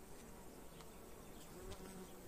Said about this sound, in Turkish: Arı da sakin böyle.